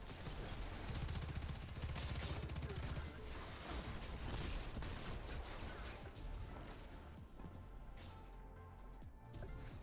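Dense, sustained gunfire from a Destiny 2 dungeon fight, rapid shots packed together with crashing impacts as a barrel is shot in the Duality nightmare realm, loud and continuous and thinning slightly toward the end.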